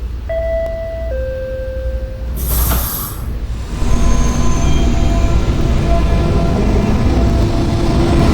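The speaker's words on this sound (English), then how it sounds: "This is a Westpotat bound K train." An R68 subway train on the westbound K line at a station sounds a two-tone chime and a sharp hissing burst, then settles into a loud, steady rumble as the train moves.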